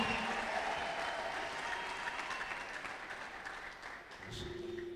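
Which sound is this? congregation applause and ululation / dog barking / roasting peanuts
congregation applause and ululation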